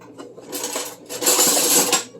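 Metal utensil scraping and clinking around a pot during stovetop cooking of peanut butter Asian chicken, a busy rattling stir in two bursts, close and fairly loud.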